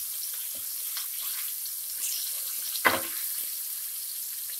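Seelavathi fish pieces frying briefly in hot oil for a methi fish curry, giving a steady soft sizzle throughout with one short louder clatter near the middle.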